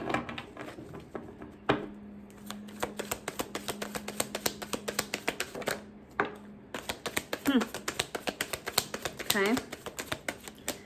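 Tarot cards are riffled and shuffled in quick bursts of rapid crisp flutters and taps, close to the microphone. A person talks briefly over the cards.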